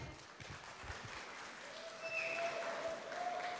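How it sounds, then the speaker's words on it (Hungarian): Quiet applause from an audience for the contestants at a live drawing-battle show, steady clapping throughout with a faint tonal whistle or hum rising in the second half. "nagy tapsot a versenyzőknek!"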